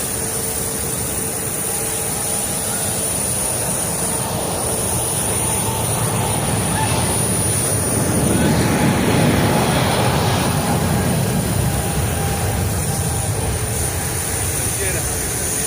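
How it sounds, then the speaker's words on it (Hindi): A SpiceJet airliner's jet engines roar steadily and loudly at an airport ahead of a flight from Mumbai to Gorakhpur, a continuous broadband rush with a high whine, swelling slightly midway, while someone speaks over it. "ये रहा हमारा हवाई जहाज और हम जा रहे हैं गोरखपुर"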